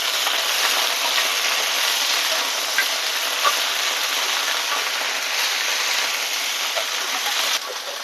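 Bitter gourd (karela) frying slowly in a pan, a constant bright hiss of oil sizzle heard up close and unbroken, easing slightly at the very end, with no voices.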